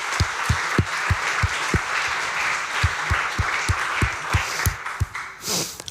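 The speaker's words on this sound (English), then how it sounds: "So first I'd just like to give our sponsors a big round of applause." A gaming conference audience applauds its sponsors, a moderate room of clapping with distinct individual claps sounding steadily before it tapers off.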